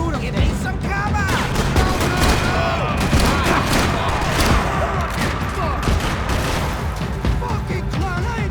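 Dense, continuous gunfire in Max Payne 3, with rapid overlapping shots and bursts layered into a loud chaotic firefight, while voices shout over the action throughout.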